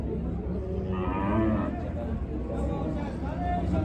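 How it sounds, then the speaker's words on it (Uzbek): A cow moos amid steady crowd chatter and babble at a busy livestock market in Usmat, Baxmal district, Jizzakh, with voices talking throughout. "Zo'r sigir."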